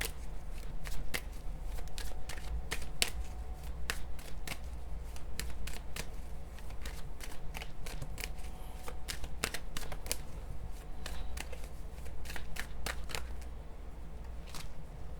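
Tarot cards are shuffled by hand in quick, crisp riffling bursts and slaps that repeat steadily, close up and with no talking.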